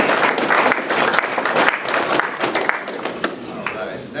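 A crowd at a meeting breaks into loud, sustained applause, many hands clapping densely and continuously at close range, with voices and cheers mixed into the clapping.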